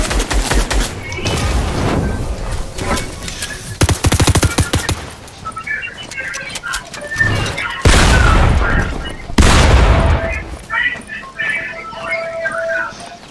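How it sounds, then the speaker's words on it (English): Video game gunfire rips out in loud automatic bursts and heavy single blasts, with sharp rattling volleys between stretches of people talking. "Guys are shooting."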